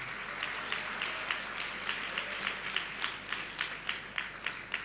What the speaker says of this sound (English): Put your hands together for YB Dato Sri Nazri Aziz.